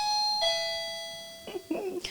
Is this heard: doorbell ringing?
yes